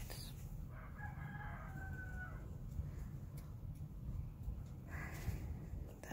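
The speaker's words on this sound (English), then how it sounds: "That's not my rooster." A rooster crows once from a distance, a faint drawn-out call over steady low background rumble.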